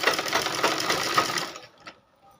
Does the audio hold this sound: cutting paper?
no